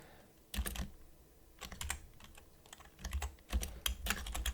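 Close, crisp keystrokes on a computer keyboard during C++ coding, coming in quick bursts of clicks separated by short pauses, with no voice over them.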